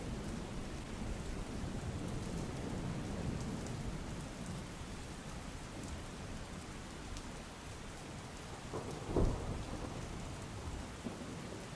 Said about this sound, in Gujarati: જુનાગઢમાં સાંબેલાધાર વરસાદ પડવાથી ગિરનાર પર્વતની તળેટી પર પાણી ફરી વળ્યું